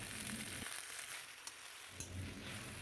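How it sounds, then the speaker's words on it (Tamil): Washed gongura leaves hit hot sesame oil in a kadai and give a faint, continuous sizzle and crackle, with a couple of small ticks and no speech. "அதை கடாயில் கொஞ்சம் நல்லெண்ணெய் விட்டு அப்படியே சேர்த்துக்கரலாம்."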